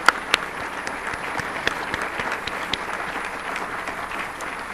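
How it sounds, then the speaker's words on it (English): An audience at an evening conversation event gives a sustained round of applause, with a couple of loud nearby claps at the start and then an even crowd clapping throughout. "So if we could give her a round of applause, please,"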